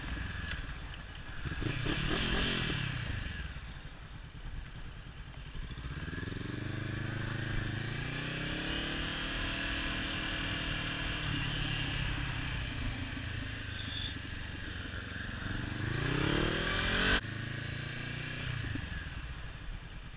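A Honda CB500F motorcycle engine runs steadily and close by for the whole stretch, revving up and down through gear changes with rising and falling pitch sweeps, plus a loud throttle blip near the start and another near the end.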